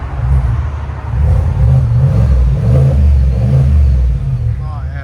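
A deep 6.2L V8 engine in a 2022 Cadillac Escalade with a Borla S-Type exhaust revs in long throaty swells, rumbling loud and close with a steady idle between pushes.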